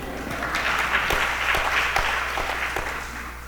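A crowd claps steadily inside a church at a party convention, a dense patter of applause with a few sharper individual claps, holding then gently easing off.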